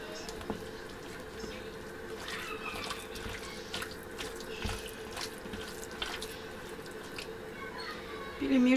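Kitchen tap water runs into a sink in a continuous steady stream, with small splashes, clinks and handling noises scattered on top, close and fairly quiet.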